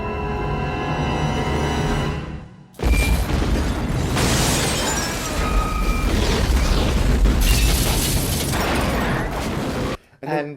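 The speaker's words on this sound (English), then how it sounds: "the initial blast, watching the cars get knocked backwards, the car they're in get flung in the blast" A large movie explosion from The X-Files: Fight the Future, a loud broadband blast that erupts suddenly after a tonal lead-in and rumbles on for several seconds as cars are flung backwards, ending in a brief drop.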